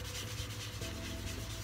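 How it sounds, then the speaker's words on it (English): Yorkshire Grit abrasive paste is rubbed onto a spinning wooden bowl on a lathe, giving a steady, close, dry friction hiss over the motor's low hum with no pauses. "I think you've got to put quite a bit on of this Yorkshire grit on"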